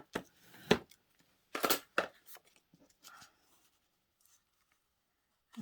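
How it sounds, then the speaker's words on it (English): Paper being folded and creased over a photo album page for a handmade journal, with several crisp rustling bursts and scrapes up close, then fading to near silence. "So I'm going to fold this over to make"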